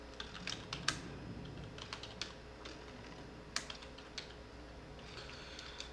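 Someone types code on a computer keyboard, with quiet, irregular key clicks and a few sharper taps spread across the whole stretch over a low room hum, close by and with no voices.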